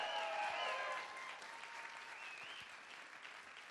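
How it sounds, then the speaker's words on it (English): Audience applause for Senator Dick Durbin at an Obama speech in the Hoogland Center for the Arts, Springfield, Illinois, heard faintly and at a distance, steady clapping with a faint voice over the opening second. "Give Dick Durbin a big round of applause"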